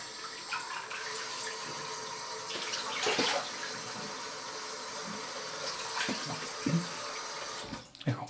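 Tap water runs steadily into a sink while a face is rinsed between lathers of a wet shave with instant canned foam and a Gillette Mach3 razor, with brief splashes and hand movements in the stream.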